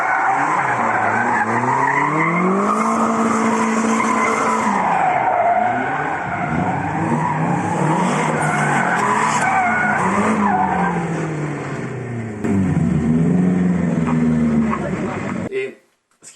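Cars skidding around a small roundabout at a car meet, with sustained tire squeal and revving engines rising and falling for a long stretch, voices mixed in, before cutting off abruptly.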